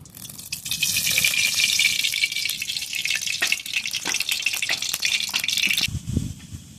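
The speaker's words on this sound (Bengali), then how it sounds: "এবার কড়ার মধ্যে দিয়ে দেবো সাদা তেল" White cooking oil poured into a clean wok, a steady close splashing stream that runs for several seconds alone, ending in a low thud at the finish.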